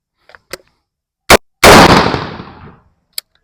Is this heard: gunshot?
yes